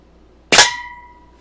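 Daisy 853 air rifle firing a pellet at a root beer can, a single sharp crack with a ringing metallic tone that decays over most of a second, close and alone.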